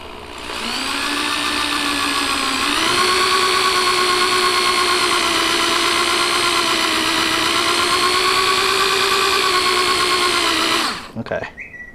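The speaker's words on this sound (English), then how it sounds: "And now we're drilling a deeper hole." A loud power drill whines steadily at high speed for about ten seconds, its pitch shifting slightly as it bores, then winds down and stops.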